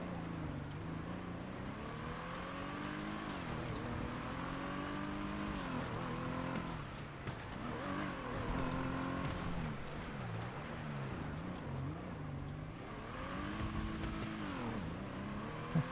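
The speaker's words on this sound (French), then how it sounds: "C'est déjà une bagnole qui drift à la base" A car engine in a video game revs and whines continuously while drifting, pitch sweeping up and down through long slides, loud and sustained for the whole stretch.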